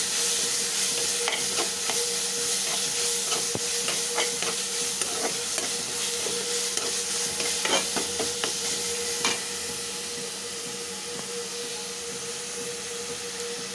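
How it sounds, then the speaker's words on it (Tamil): Ginger garlic paste sizzles with onions in a hot pan, a soft steady fry punctuated by scraping stirs in the first nine seconds, then quieter sizzling alone. "இஞ்சி பூண்டு பேஸ்ட் போட்டாச்சு"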